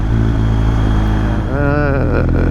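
Motorcycle engine under hard acceleration with a quick shifter, a loud continuous close roar in which the pitch drops and climbs again through a rapid gear change.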